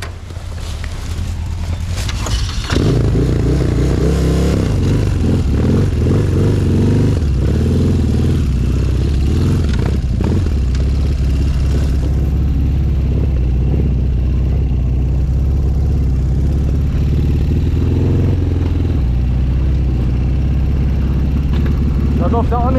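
Classic enduro motorcycle engine loud and close while riding at a classic enduro event in Neuhaus-Schierschnitz, a continuous droning rumble with rising and falling revs, buffeted by wind, with someone talking over it.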